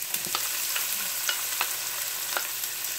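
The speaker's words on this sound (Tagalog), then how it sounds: "Igigisa na po natin yung sibuyas. Sunod na natin yung bawang." Chopped onion and garlic sauté in a hot pan for Bicol express, giving a steady sizzle with occasional crackles and pops, close and fairly quiet, with no talking.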